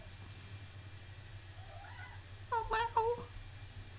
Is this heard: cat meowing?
yes